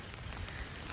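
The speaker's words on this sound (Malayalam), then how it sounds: "നല്ല മഴയുണ്ട്." Heavy rain falls over a field near a stream by a house, a dense, even hiss of drops on surfaces heard close and steady, with no voices.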